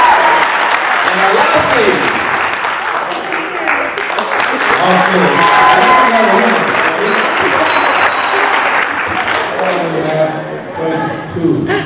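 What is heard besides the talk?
audience applause for contestants at a ball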